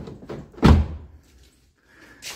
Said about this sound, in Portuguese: Quando você dá outro toque, abre as outras quatro portas.